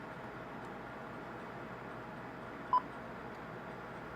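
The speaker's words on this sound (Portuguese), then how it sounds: "Foi a melhor afinação que eu achei para o bip." An RP-80 gives a single short function beep tuned to 2.45 kHz, a brief clean tone rising out of a faint, steady background hiss.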